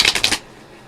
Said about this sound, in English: shuffle some cards here